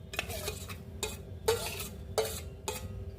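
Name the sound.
ginger and garlic paste frying and being stirred in a pan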